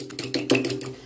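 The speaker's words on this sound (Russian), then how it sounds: "И перемешиваем их вилкой." Quick, light clicking taps of a fork beating two eggs against a plate, a rapid close rhythm over about a second.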